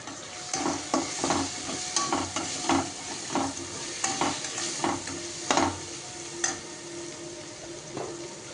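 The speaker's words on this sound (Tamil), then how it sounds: "இப்போ அதை நல்லா வதங்கட்டும்." Tomatoes with chilli powder and turmeric powder sauté in a pan under a constant hiss, with a spatula scraping through them in a brisk, irregular rhythm, close up and without any talking.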